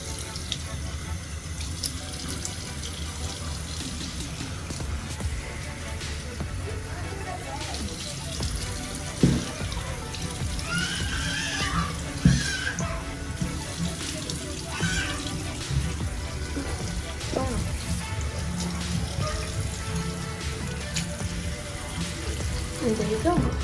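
A bathroom tap runs steadily into a sink as eyelashes are rinsed, a continuous splashing rush with occasional louder splashes and drips across the whole stretch.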